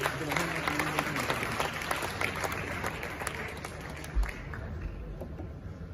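A crowd at a Ghana Journalists Association awards ceremony at Manhyia applauds as the Inspector General of Police is welcomed, dense clapping filling the hall throughout with voices and a sound system mixed underneath, fading slightly toward the end.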